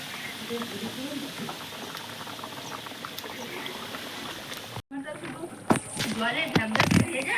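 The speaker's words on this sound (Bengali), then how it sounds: "ঝোল টকবকা হয়ে ফুটে গেছে" Curry broth boiling hard in a pot for a vegetarian jackfruit seed dhoka, a steady bubbling churn throughout, with a brief gap and then louder bursts of stirring and clatter near the end.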